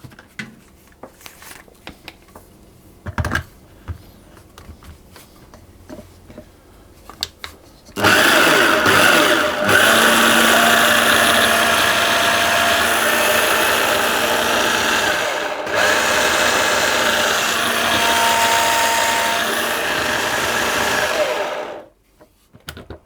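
A food processor whirs loudly and steadily for around fourteen seconds, mixing plain flour and baking powder, then cuts off abruptly; a few faint clicks and handling sounds come before it starts.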